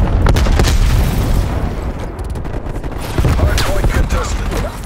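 Frag grenade blasts and gunfire in a Call of Duty Black Ops Cold War hardpoint match, loud and continuous, with booming bursts and crackling shots stacked on top of each other throughout.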